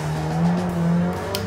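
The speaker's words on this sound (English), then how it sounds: "The car we're using is a Seat Leon Cupra. It's a cup car." Front-wheel-drive Seat Leon Cupra cup car on the Nürburgring Nordschleife, its engine droning close and loud with a rising and falling pitch as it drives, with a faint squeal near the end.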